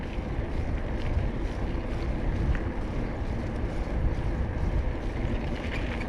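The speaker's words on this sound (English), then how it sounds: "Slightly windy, you can feel it. It's, probably hear it on the camera." Wind buffets a camera microphone while cycling along a countryside route in rural Vietnam, a dense, loud, low rumble that roars steadily throughout with no voices.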